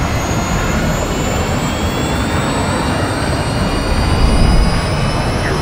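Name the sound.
missile flying at Mach 3 in video game Call of Duty MW2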